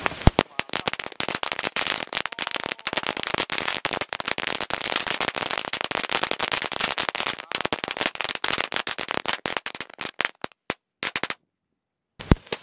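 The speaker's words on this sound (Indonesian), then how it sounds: "kita nyalakan mercon Magic Whip semuanya" Magic Whip long-fuse firecrackers going off in a dense, continuous chain of sharp pops and crackles for about eleven seconds, loud and close, ending in a few scattered last bangs.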